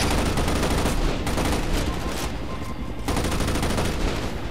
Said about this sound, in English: Whoa, someone's shooting me.